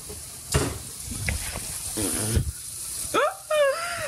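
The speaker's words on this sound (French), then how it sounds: "mon petit saumon qui est en train de revenir avec ses épices dans son huile de coco" Salmon with spices sizzles in hot coconut oil in a pan close by, with scraping stirs and clinks, plus a few brief squeaky sounds near the end.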